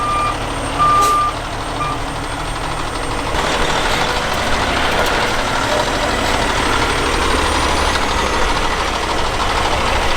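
Big truck maneuvering up a driveway with its reversing beeper sounding, engine rumbling close by, then a louder engine surge as it works in.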